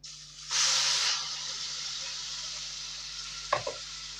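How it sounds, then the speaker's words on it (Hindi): Tomato paste hitting hot oil with turmeric in a frying pan, a sudden loud hiss that settles into a steady sizzle, then two brief clinks of a utensil near the end; no voices. "इसके साथ ही हम डाल देंगे अपना पिसा हुआ टमाटर का पेस्ट।"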